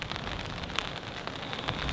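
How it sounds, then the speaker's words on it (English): Rain coming down on the Val Andre golf course, a continuous broadband hiss of falling drops with a few slightly sharper taps, steady and alone without speech. "Well, now it's raining."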